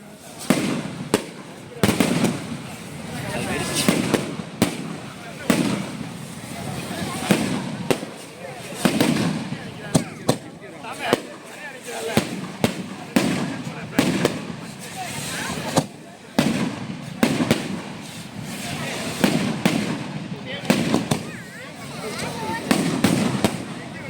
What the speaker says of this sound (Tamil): அவங்க அப்படியே வெடிச்சு அப்படியே பூ பூக்கிற மாதிரி வெடிக்குது பாருங்கள்